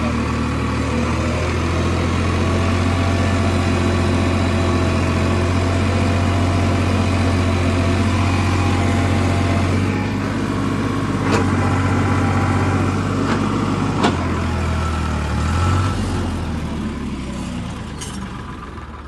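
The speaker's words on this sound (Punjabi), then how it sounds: "ਹੁਣ ਆਪਾਂ ਟਰੈਕਟਰ ਰੱਬ ਦਾ ਨਾਂ ਲੈ ਕੇ ਤੋਰੀਏ" Tractor engine straining in a wet, muddy field, a loud, close, continuous low diesel roar that holds steady with a few sharp mechanical knocks, then eases slightly near the end; no voices.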